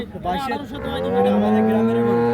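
A Holstein Friesian dairy cow at a rural cattle market lets out one long, loud, drawn-out moo close by, with market noise in the background.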